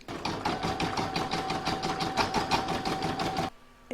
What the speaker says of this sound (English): Next I'm going to stitch round number 3, which is going to do the veins of the oak leaf.